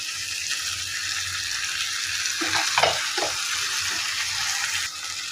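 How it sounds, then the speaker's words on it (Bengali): Goose meat sizzles steadily in a hot pan of fried spice masala, with a few clattering scrapes and knocks of a spoon stirring and mixing the meat midway. "আমি মশলা দিয়ে মাংসটাকে ভালো করে মিশিয়ে নিব"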